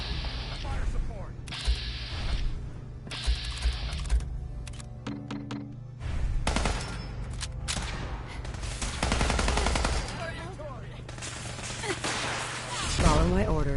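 Gunfire in Fallout 4 crackles in short bursts and single shots amid thuds and battle noise, with a voice calling out in the game.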